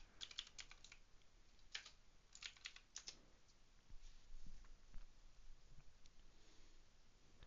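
Fast, light tapping on a computer keyboard as a password is typed at a login screen, quick clustered keystrokes close and fairly quiet, with a few scattered taps and soft handling noise afterward.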